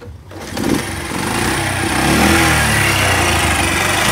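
A Honda CD Benly 50cc motorcycle engine runs steadily nearby with a loud, buzzy small-engine drone that swells slightly after the first second and holds constant.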